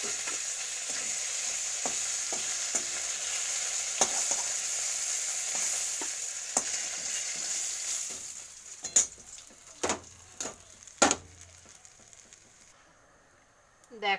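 Oil sizzles steadily as catla fish fries in a pan, with occasional scraping and clinks of a utensil, the hiss fading near the end.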